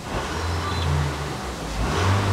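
A car engine revs after a timing belt replacement, with a mid-pitched running note that rises and swells toward the end, close and continuous.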